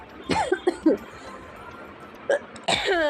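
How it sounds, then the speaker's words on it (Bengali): A woman coughs in a home kitchen: a quick cluster of harsh, close coughs, a pause, then one more cough and a longer, strained fit. "মা গো মা এত কাশি উঠছে"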